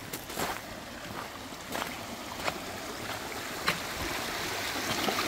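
Water flows and bubbles at a spring at Sveti Juraj, giving a steady broadband rush with small splashes and gurgles, close and continuous, with no talking.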